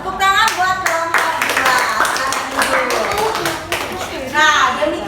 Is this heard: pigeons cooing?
no